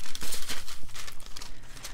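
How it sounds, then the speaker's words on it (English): Onion skin paper cover wrapped around a Midori MD A5 notebook crinkles up close in quick rhythmic rustling bursts, crisp and fairly loud with no talking. "some like onion skin paper that covers the whole thing"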